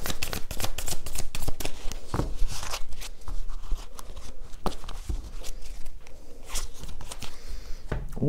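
A deck of oracle cards is shuffled close up, a loud, continuous run of riffling and flicking card sounds with no talking.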